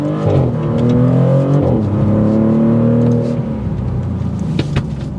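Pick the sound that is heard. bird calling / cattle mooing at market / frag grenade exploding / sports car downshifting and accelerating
sports car downshifting and accelerating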